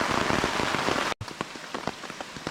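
Steady rain patters on a Pathfinder camping tarp at night, a dense close drumming of drops that drops out for a split second and then resumes with scattered heavier hits.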